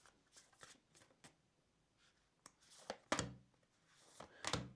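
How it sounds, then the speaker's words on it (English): Oracle cards are shuffled close up in soft, irregular riffles and flicks, with a few louder bursts toward the end and quiet gaps between. "So we're going to start by pulling some oracle cards and see what happens."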